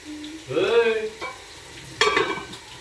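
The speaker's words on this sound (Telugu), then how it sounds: "ఉల్లిపాయలు బాగా మగ్గనివ్వాలి" Chopped onions sautéing in a pan for a home-cooked crab curry, with close stirring scrapes and steady sizzling in two short bursts separated by a brief lull.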